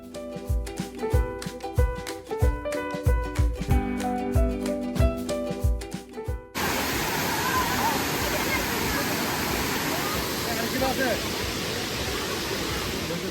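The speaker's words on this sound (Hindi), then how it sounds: "उस झरने के पास से निकले हैं" Waterfall near Guwahati, a steady loud broadband roar of falling water that takes over in the second half, preceded by music-like tonal content in the first half.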